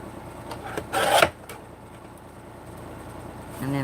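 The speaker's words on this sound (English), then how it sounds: "I'm just going to get my handy dandy trimmer here so that way everything is straight. I'm just going to cut that off." A paper trimmer blade slides through a sheet, trimming off the excess in a quick rasping stroke near the start, followed by faint handling noises and a soft thump at the end, with no talking.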